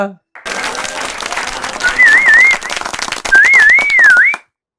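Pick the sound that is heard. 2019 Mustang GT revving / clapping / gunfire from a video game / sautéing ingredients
clapping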